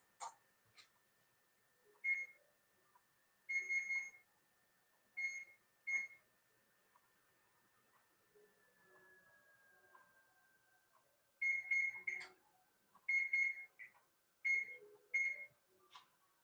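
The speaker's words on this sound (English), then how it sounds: "now I'm going to set my timer for 50" A kitchen timer beeps in short clustered bursts as it is set for 50 minutes, with pauses between groups of beeps and a faint tone in a quiet kitchen.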